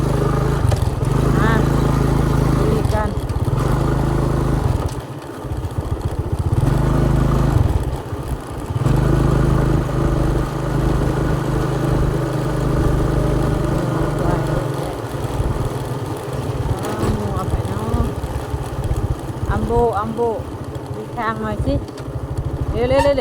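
Motorcycle riding along a forest road, ridden with one hand on the throttle, its engine droning steadily throughout with clattering, under nearby talk.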